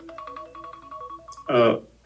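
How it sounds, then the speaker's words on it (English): A timer alarm rings during a timed mind-mapping exercise, a repeating electronic beeping pattern under a room's background, followed by a brief loud burst of voice or noise near the end. "The alarm is ringing."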